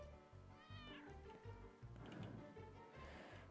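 A cat meows in a burger-cooking video game, several drawn-out meows over a repeating pulsing game soundtrack, faint overall.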